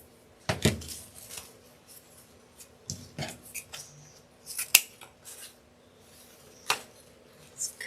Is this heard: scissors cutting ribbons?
yes